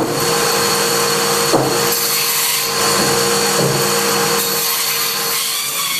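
A band saw rips wooden logs into quarters for making clogs, a loud, steady motor whine with the rough grind of the blade cutting through wood.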